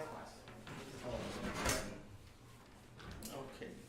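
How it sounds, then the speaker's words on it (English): An indoor door swings shut in a room where a discussion group meets, giving a single muffled thump and rattle amid soft background voices. "can you close the door?"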